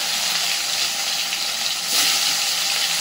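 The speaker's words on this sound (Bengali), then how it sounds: "এবার মাছের পিসগুলো আমি তেলের মধ্যে দিয়ে ভেজে নিচ্ছি।" Fish pieces fry in very hot oil for a Bengali home-cooked dish, giving a steady, loud sizzle with no talk, swelling briefly near the end.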